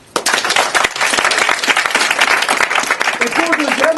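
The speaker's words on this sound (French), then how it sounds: "vous applaudissez maintenant" An audience applauding to vote for a puzzle: a crowd bursts into loud, busy clapping after a brief quiet start, sustained throughout with some voices mixed in near the end.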